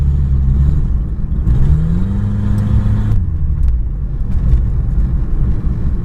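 A 1980 Honda Accord fitted with a Weber carburetor pulls hard around a corner, its engine droning loud and close from inside the car, pitch rising and then holding steady under power.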